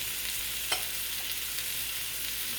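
Butter and vegetables frying in a pan make a steady, close sizzle, with one brief clink of a utensil partway through.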